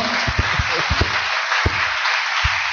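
A church congregation applauds loudly during a worship service, a broad steady wash of clapping with a few deeper thumps and beats scattered through it.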